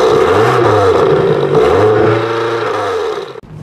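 A 2024 BMW XM hybrid with 738 horsepower accelerates hard onto a highway. The loud, close engine drone rises in pitch through repeated gear sweeps, then eases off near the end.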